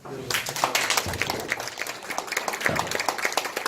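A seated audience claps for two honored members at a meeting, quick dense clapping starting abruptly and continuing evenly, with a few voices murmuring underneath.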